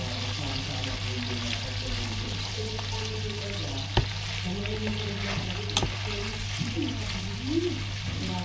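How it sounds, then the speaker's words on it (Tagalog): Chopped onions fry in a pan for a biryani, giving a steady close sizzle with occasional clinks as they are stirred, while a person talks over the cooking now and then. "prituhin na natin yung yung onion"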